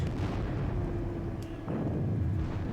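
Heavy Russian artillery fire rumbles in the Napoleonic wargame Battle of Friedland, a continuous dense low booming barrage with overlapping blasts, loud and sustained throughout.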